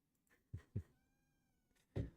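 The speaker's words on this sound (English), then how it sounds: "I gotta feed this cat because he's gonna keep meowing" Cat meows indoors: a soft, faint tonal cry around the middle, surrounded by several short thuds and knocks close by.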